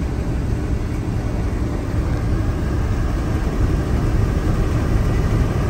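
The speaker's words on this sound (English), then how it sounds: "2015 Freightliner with the Cummins engine." A 2015 Freightliner 24-foot flatbed truck with a Cummins engine and 10-speed manual transmission runs, giving a loud, steady, low diesel drone that holds even from start to finish.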